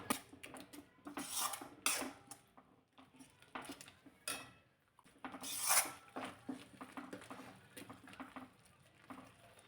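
A roasted onion and tomato paste is sautéed in a pan, with a spatula scraping and clinking against metal in irregular strokes and soft sizzling patter, close and fairly quiet.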